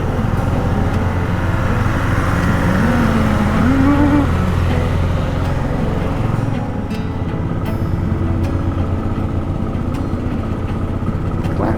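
A Royal Enfield Bullet motorcycle labours up a steep mountain road in third gear, a loud, steady, low thumping drone that shifts briefly in pitch and eases slightly toward the end, with passing traffic noise around it.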